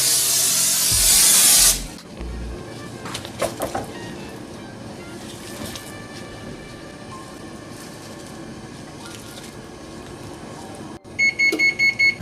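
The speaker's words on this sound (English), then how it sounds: "we're going to spray our tray with non-stick spray so that the chicken wings don't stick" A short, loud hissing burst of non-stick cooking spray onto a baking tray, then low rumbling background noise and a few faint clinks, with electronic beeps near the end.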